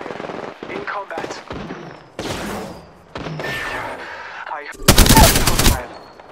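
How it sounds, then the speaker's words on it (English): Apex Legends video game combat erupts in rapid automatic gunfire, loud and close, with sharp bursts of shots and a sustained volley near the end, mixed with game character voices. "I'm taking fire."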